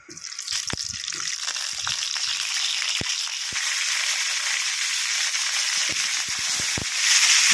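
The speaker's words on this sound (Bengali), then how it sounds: "তেল গরম হয়ে গেছে। এরপরে আমি আলুগুলোকে একে একে ছেড়ে দেব।" Potato pieces drop one by one into hot mustard oil, a building sizzle and bubbling hiss punctuated by soft plops, growing louder near the end, no talk.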